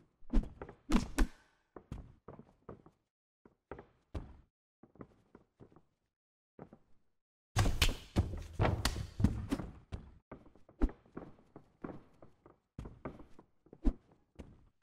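Punches landing in a UFC 2 video game bout between Takanori Gomi and Khabib Nurmagomedov: sharp, dull thuds in irregular clusters, some single hits and some rapid flurries, with short quiet gaps between exchanges.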